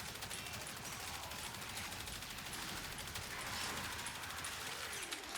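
The Athodai gun fires in the video game Warframe, a rapid, continuous stream of crisp gunshots rattling off in a dense, even barrage at moderate loudness.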